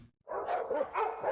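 Dogs at a dog ranch in Ocala give a short burst of barking and yipping, close and fairly loud, heard alone.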